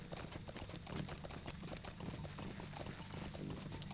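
A riding steed in the video game LOTRO trots along, its hooves making a steady, rapid clip-clop over a low background hum.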